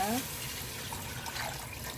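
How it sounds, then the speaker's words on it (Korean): Water gushes steadily into a pot of beef and blood sausage soup, a continuous pouring rush lasting the whole moment, with a brief voice at the start. "물을 부어줍니다"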